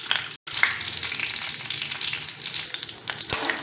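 Mustard seeds, urad dal and dried red chillies crackle loudly in hot ghee, a dense, steady frying hiss with fine popping. It cuts out briefly near the start, then carries on close and alone.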